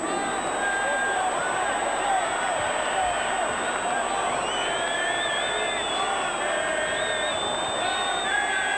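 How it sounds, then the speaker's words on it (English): Big stadium crowd at a Currie Cup rugby final between Blue Bulls and Western Province roars steadily with cheering and shouts, a dense continuous wash of noise throughout, with an announcer's voice faintly under it. "Right, ladies and gentlemen, I think also a big round of applause."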